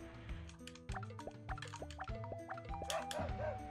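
A dog barks in the video game Wild ARMs, with short chirpy yips repeating over steady game music.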